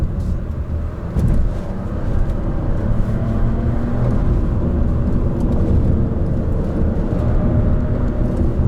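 Chevrolet Malibu 1.35 turbo three-cylinder midsize sedan driving downhill on a winding road, a steady loud engine and road rumble with tire and wind noise throughout, no talking.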